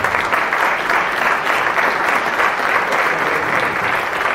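Steady, dense applause from a theatre audience at a music anniversary concert, loud and continuous throughout without a break, with no voices rising above the clapping.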